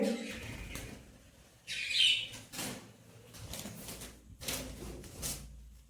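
Short bursts of high chirps from a lovebird, a few calls spread across a few seconds with light rustling in between, fairly close.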